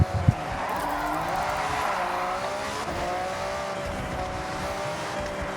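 A V12 car engine in the Forza Horizon racing game, droning and rising with tire squeal and skidding as the car slides through turns, steady and loud.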